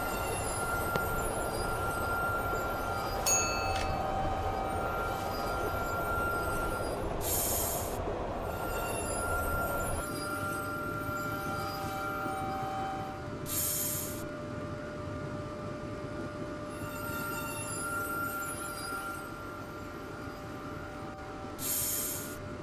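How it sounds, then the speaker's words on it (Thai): A video game subway train rumbles steadily with squealing wheels and faint high whines as it slows, the noise dropping partway through as it pulls into the station. "นี่ครับรถไฟก็มาจอดที่สถานีแรกแล้วนะครับ"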